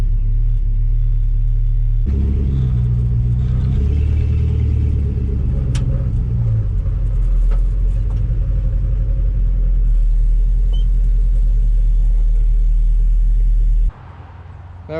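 A lowered 1984 Chevrolet C10 pickup on drop spindles and springs drives along with a steady, loud low engine rumble and road drone, rising and shifting slightly mid-run before easing off near the end; no one speaks.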